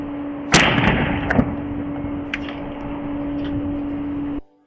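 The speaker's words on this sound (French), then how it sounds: "Une caméra de sécurité a filmé l'explosion d'un pneu." A car tire overinflated to about 149 psi bursts with a single sharp bang on a security camera, followed by a few fainter knocks over a constant electrical hum before the sound cuts off.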